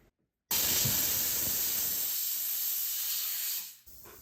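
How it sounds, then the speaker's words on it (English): A jewelry steam cleaner fires a loud, continuous hiss of steam onto a ring being cleaned. The blast starts abruptly after a moment of silence, holds steady for about three seconds, then fades and cuts off. "We're going to steam the ring now."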